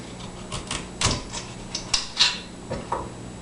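A knife chops a green-head daikon radish into even pieces on a board, giving a short run of irregular crisp cuts and taps close by, with no talking.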